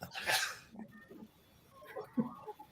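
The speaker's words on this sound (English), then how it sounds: "Got to sneeze." A single sharp sneeze bursts out loud and close at the start during a sports-betting discussion, followed by quiet with faint voice-like sounds.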